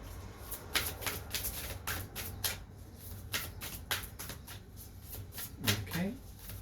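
Stiff tarot deck being shuffled close by, a run of sharp riffling snaps and card slaps in an uneven rhythm.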